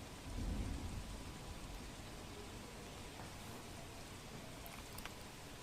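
Steady heavy rain with gusty winds pours down in rural Porbandar, Gujarat, with a low rumble of thunder early on, a constant dense hiss throughout.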